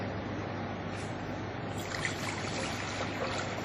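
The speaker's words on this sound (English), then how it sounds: "the second step is to fill the mold with water" Water poured into a mold to fill it during a sand bulk-density test, a steady close trickling wash with no one talking.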